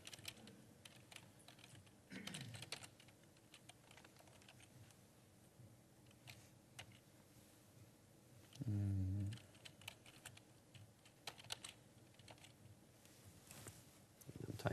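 Soft, steady typing on a British-layout computer keyboard, quiet and close with irregular clicks and a brief louder bump partway through, no speech.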